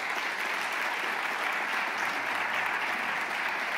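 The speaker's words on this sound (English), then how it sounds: "please welcome with a great applause to Sophie and Silvia." Audience applause for two performers at a zarzuela and Spanish music concert, a steady sustained clapping from a full hall, even in loudness throughout with no voices over it.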